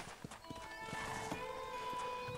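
Horse hooves clip-clop in a steady rhythm with a brief whinny in the Red Dead Redemption video game, heard close and moderately loud over a game soundscape with tonal music lines.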